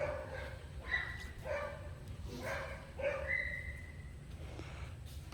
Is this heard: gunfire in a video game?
no